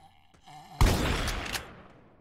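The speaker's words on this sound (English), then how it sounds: "Alright, let's try the shotgun first." A shotgun blast in the zombie video game Zombie Raid, one loud close boom with a rolling tail that fades out, preceded by faint game sounds.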